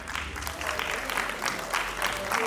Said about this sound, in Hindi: इनके लिए तो 2 बार तालियां.